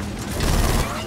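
Rapid gunfire in the shooter Gears of War 4, fired while walking: a dense, loud, clattering burst lasting about a second.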